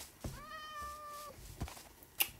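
A cat in the Minecraft video game gives a single clear meow, a drawn-out tonal call of about a second, followed by faint game sounds and a short bright blip.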